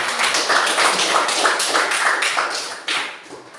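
A classroom of students claps in an uneven, fairly dense patter of many hands, close and lively, tapering off toward the end with a brief knock near the close.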